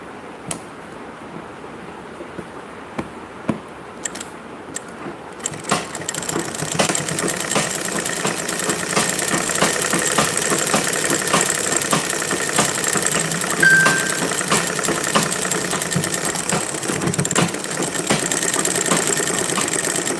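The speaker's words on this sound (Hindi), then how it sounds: "अब रात को सिलाई मशीन चला रही है।" Electric sewing machine running at night while cloth is being fitted, a steady mechanical whir that starts after about six seconds and holds on continuously, fairly loud and close, with no talking.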